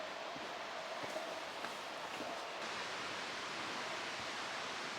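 A creek flows through the woods along the Pacific Crest Trail near Stehekin, a steady, broad rushing hiss of water with a few faint rustles and footfalls, no talking.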